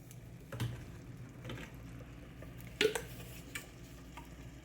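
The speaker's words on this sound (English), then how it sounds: "we're gonna stir it" Soft, quiet stirring of ground turkey sausage sauce with thyme, paprika and parsley in a pan, faint scraping with a couple of brief clicks and knocks over a low background hum.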